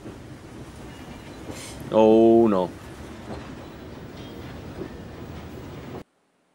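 A train in the film Six Shooter rumbles along with a brief, loud metallic screech or horn-like burst in the middle, and a person speaks briefly over it.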